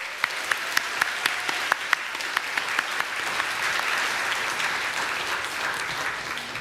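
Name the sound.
church congregation applauding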